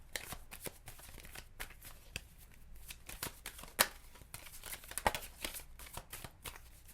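Tarot cards shuffled by hand nearby, a continuous run of rapid papery riffles and flutters with small bursts of louder snaps, no talking over it.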